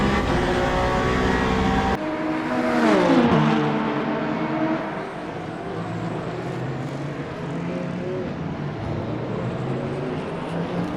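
BMW race car in the Le Mans Ultimate video game at Bahrain: a loud engine note rising and falling as the car sweeps past close by, then a steady droning roar of racing engines, no talking.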